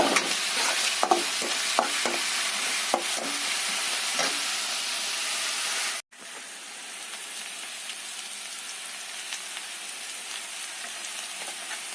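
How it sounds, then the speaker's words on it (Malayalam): Onions fry in coconut oil with a continuous crackling sizzle, dotted with small pops; midway a brief cut leaves the frying quieter and softer after ivy gourd goes into the pan. "സവാള ഒന്ന് നിറം മാറി കഴിയുമ്പോഴത്തേക്കും കോവയ്ക്ക ഇടുന്നു."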